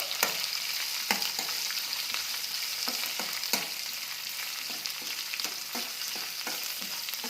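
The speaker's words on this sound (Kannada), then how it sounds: "ಇವಾಗ ಇವನ್ನ ಚೆನ್ನಾಗಿ ಎಣ್ಣೆಯಲ್ಲಿ ಫ್ರೈ ಮಾಡ್ಕೋಬೇಕು" Onions with curry leaves frying in oil over a low gas flame, a steady close sizzle broken by scattered sharp clicks of a spatula against the pan, with no talking.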